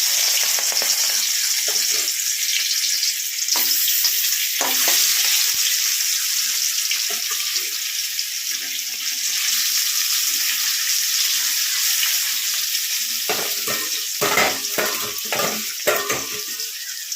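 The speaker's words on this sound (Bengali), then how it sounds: "ওখানে মাছটা ভাজতে দিয়ে দিলাম" Fish frying in oil, a strong steady hiss of sizzling heard up close, with a burst of clattering and scraping toward the end.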